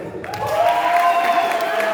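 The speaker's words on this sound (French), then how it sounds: "vous pouvez applaudir pour extraterrestre" An audience at a slam poetry event in Mutsamudu breaks into applause and cheering, a loud sustained crowd sound with a raised voice carrying over it.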